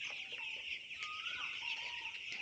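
Fifteen-day-old broiler chickens on a poultry farm cluck and chirp continuously, a dense close flock chorus with a few higher calls rising above it.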